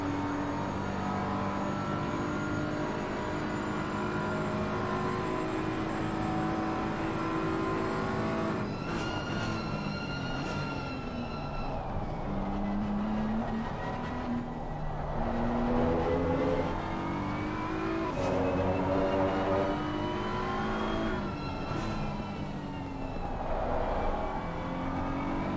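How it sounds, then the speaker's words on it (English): Race cars lapping Indianapolis in an endurance racing video game, engines revving and stuttering as traction control cuts in, with several cars passing in a steady, loud stream of engine noise. "You hear the hesitation of the traction control."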